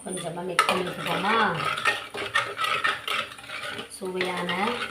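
A metal spoon scrapes and clinks around inside a pot, several quick stirring strokes at close range, with soft kitchen background.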